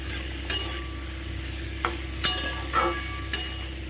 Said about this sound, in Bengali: একটু ভালো করে নেড়ে নাও